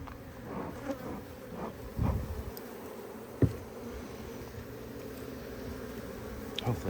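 Honeybees buzz in a steady, soft drone around an opened hive during a February inspection, with occasional bumps and knocks of handling close by.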